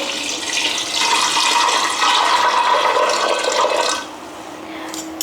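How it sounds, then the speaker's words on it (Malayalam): Water poured into a vessel of sprouted chickpeas, a loud, steady splashing gush that swells for several seconds, then thins to a lighter trickle before stopping. "ഇനി നമുക്കിതിന് പാകത്തിൽ വെള്ളം ഒഴിച്ച് കൊടുക്കാം."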